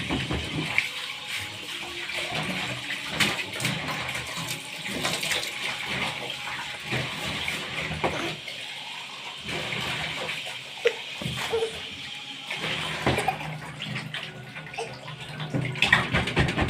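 Water draining out of a broken basin and spilling onto the floor, a steady close trickle and splatter with brief louder splashes, lasting the whole stretch with hardly any talk.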